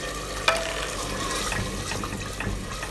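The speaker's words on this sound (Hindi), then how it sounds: "सालन की भुनाई बहुत ज़बरदस्त हो चुकी है" Potato and egg curry sizzles and fries in a pan during the roasting stage, with a soft continuous crackle and a few stirring scrapes, fairly quiet and without talk.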